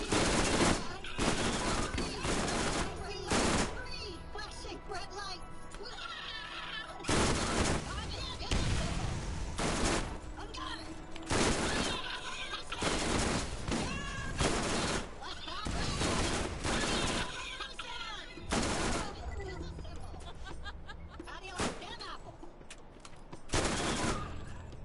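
Loud, rapid gunfire from a gun in the video game Borderlands, coming in dense bursts and volleys across the whole stretch with only brief gaps between strings of shots.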